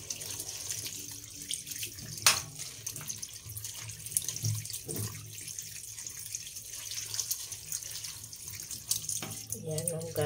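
Tap water runs steadily into a sink during washing, a continuous broadband hiss with a few clinks, at moderate level throughout.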